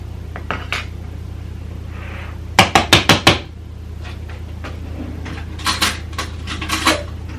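A metal spoon clinks and scrapes against a bowl while scooping drained tuna, a quick cluster of four or five sharp taps followed by lighter, scattered scrapes over a steady low background hum.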